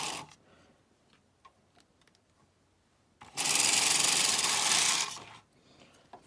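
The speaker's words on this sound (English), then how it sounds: "And we'll just continue knitting." A Bond knitting machine's carriage sweeps once across the needle bed, laying yarn for intarsia work. It gives a loud, steady rushing clatter lasting about two seconds, framed by quiet scattered ticks before and after.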